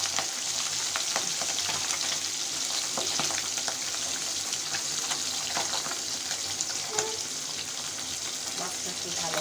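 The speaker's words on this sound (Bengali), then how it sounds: "মাছটা একটু ভালো করে ভাজতে হবে।" Tengra fish fry in hot oil with a dense, steady sizzle, close by and peppered with crackles and pops throughout.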